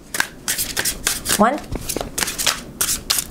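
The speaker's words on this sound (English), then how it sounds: "2 more shuffles, 8-card spread." A deck of tarot cards is shuffled close up in a quick series of riffling bursts, with a person speaking briefly in the middle of the shuffling.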